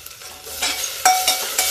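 Onions frying with a pinch of asafoetida sizzle softly in a pan, while a spoon stirs them in three or four brief scraping strokes.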